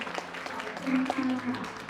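Crowd applause at a corporate announcement event, a steady diffuse patter of many hands, with someone speaking briefly over it in Thai.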